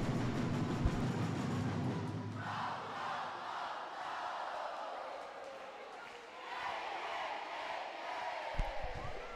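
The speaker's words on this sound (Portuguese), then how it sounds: "Canta a torcida da arquibancada, tá fazendo contagem regressiva." Fans in the stands at a women's futsal cup final chant together in a loud, sustained crowd roar that swells and fades in waves, with scattered shouts and a bounce or thud near the end.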